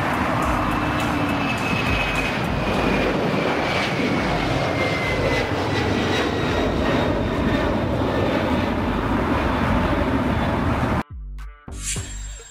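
Cargo jet air freight plane roaring steadily and loud with broadband engine noise and a faint whining tone, cutting off abruptly near the end into a few brief knocks.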